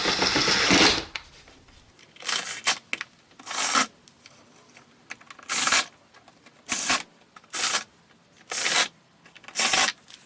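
Phillips screwdriver tightening the screws on the air filter cover of a 2012 VW Passat 1.6 TDI, heard as a series of short, close squeaky ratcheting bursts separated by brief pauses.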